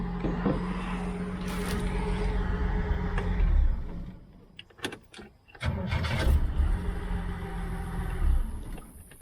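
A 1972 Chevy Nova engine running close by, a steady rough rumble that drops away briefly midway and then picks back up, with no talking over it.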